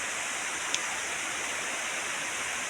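Steady rushing roar of water at Bibig Falls, a constant broadband wash heard from a moderate distance with no voices.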